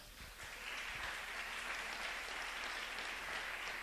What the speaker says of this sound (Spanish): Denle un aplauso a Dios esta mañana.